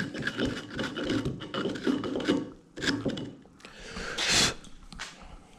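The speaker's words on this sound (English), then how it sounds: "Basically allows me to clean out this mortise, or majority of it anyways, then I'll use a chisel to get the rest out." Wood scraping and rasping as a chisel cleans out a mortise in a pantry door build, close and steady rubbing strokes that pause briefly, then a louder scrape near the end.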